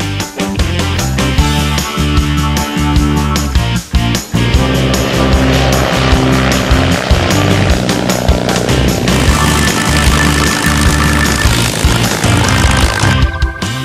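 A propeller aircraft engine drones at an airport fly-in, a loud, close, sustained throbbing roar with rhythmic pulsing throughout and no talk over it.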